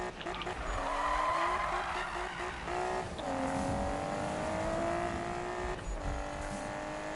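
A race car in Need for Speed 2015 skids with long, loud tire squeals that bend in pitch over a steady engine roar, repeated across the stretch.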